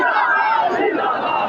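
Large crowd at a religious procession roaring the slogan Tajdar-e-Khatm-e-Nabuwwat in unison, a loud, dense, sustained chant of many voices close by.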